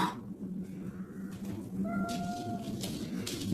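A cat meows indoors, a couple of drawn-out tonal cries rising over a steady low background hum, fairly close and alone with no talk.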